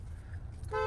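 A single short car horn toot sounds at the very end, over the low rumble of a running engine, during a driving lesson in city traffic.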